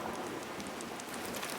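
Steady rain falling over the Amazon rainforest in the wet season, a dense, continuous hiss of drops spread evenly throughout, moderately quiet with no voices.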